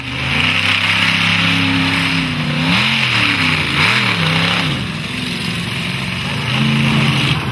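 Scooby Doo monster truck at an Australian monster truck show, its big engine revving loudly, pitch swelling and dipping in repeated surges and then settling into a rough idle before a jump over cars.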